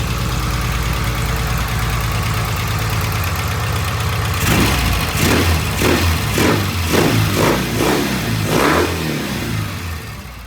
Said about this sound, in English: Every time we rev up the engine,